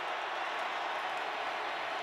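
Sustained roar of a packed football stadium crowd during a Buccaneers–Cowboys NFL game, a broad, even wash of cheering that holds at a constant high level from start to finish.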